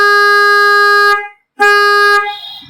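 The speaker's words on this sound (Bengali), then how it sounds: "দুটো হর্নই যখন একসাথে বাজবে তখন দারুণ একটা রিদম তৈরি করবে" Denso pop horn for bikes and cars blaring in two long, steady bursts with a brief gap between them, loud and close with a bright, multi-tone buzz, the second blast trailing off at the end.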